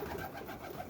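Roller pigeons cooing close by in a loft, a steady run of soft, throaty coos repeating through the whole second with no talk.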